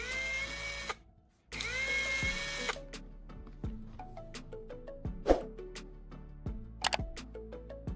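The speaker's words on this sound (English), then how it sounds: "I'll insert the carbon rod into my drill and use a piece of sandpaper to meticulously sharpen its tip" Whine of a spinning drill turning a carbon rod while sandpaper sharpens its tip, two running bursts separated by a brief pause, then a series of sharp clicks and taps, nearby and fairly quiet.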